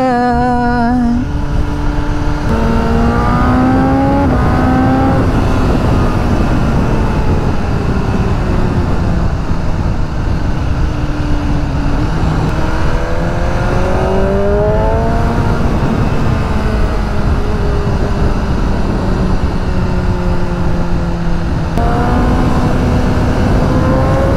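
A BMW M1000R motorcycle on a Sunday cruise over potholed roads roars loudly and continuously, its engine note rising and falling through repeated gear changes and accelerations.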